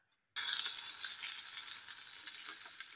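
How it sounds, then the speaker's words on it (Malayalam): Mustard seeds, curry leaves and dried red chillies hit hot oil for a Kerala-style chena pachadi tempering, bursting into a loud, steady close-up sizzle after a brief silent start, with no talking. "കടുക് വറുത്ത് ചേർക്കാം."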